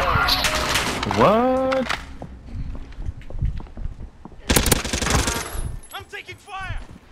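Call of Duty: Modern Warfare gunfire crackles in sharp automatic bursts, one loud volley midway and scattered shots around it, mixed with players talking over voice chat.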